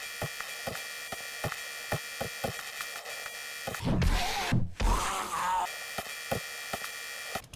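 A motorized auger digging in the survival game 7 Days To Die gives a faint grinding hum with regular ticking pulses, broken midway by a louder burst of crunching and scraping.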